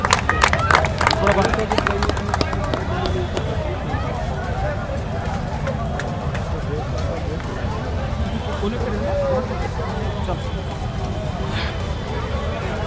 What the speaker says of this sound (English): Can we welcome our guests with a huge round of applause?